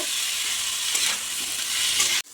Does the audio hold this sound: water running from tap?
no